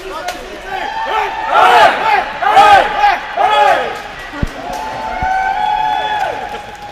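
Crowd at a broomball national championship final shouting a rhythmic series of loud 'hip' calls answered by group cheers, several bursts in a row, close and energetic, led by a single caller.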